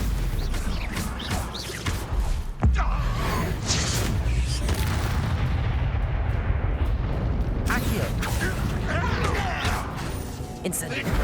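Spell blasts and explosions in Hogwarts Legacy burst and whoosh in quick succession, with booming impacts and crashes, a loud chaotic fight under frequent spoken voices.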